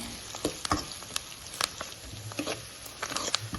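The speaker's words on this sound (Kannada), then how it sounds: "ಎಣ್ಣೆ ಬಿಸಿಯಾದ ನಂತರ ಸಾಸಿವೆ ಹಾಕಿ ಒಂದು ದೊಡ್ಡ ಈರುಳ್ಳಿಯನ್ನು ಕಟ್ ಮಾಡಿ ಹಾಕ್ಕೊಂಡಿದ್ದೇನೆ" Sliced onion and mustard seeds frying in hot oil with curry leaves for fish curry, a continuous low sizzle dotted with sharp popping crackles, close up and quiet.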